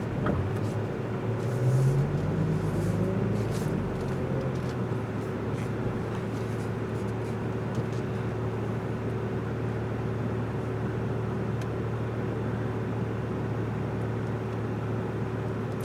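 A car on a timed autocross run: a steady engine drone holds through the whole stretch, with a rising pitch sweep early on as it accelerates, heard alone without talk.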